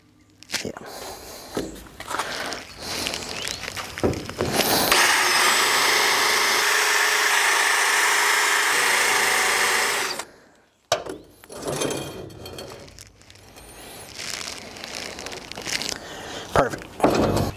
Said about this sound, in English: I don't know if that drill is going to make it or not